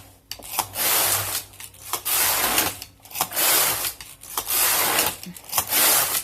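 A Passap knitting machine carriage sweeps back and forth across the needle beds in repeated loud raspy passes, each about a second long, separated by short clacking pauses, with no talking.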